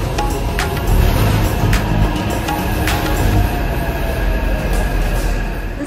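The small train on the line to the Beitou hot springs outside Taipei rumbles along steadily, with wheels clattering on the rails and occasional metallic squeals, loud and close throughout.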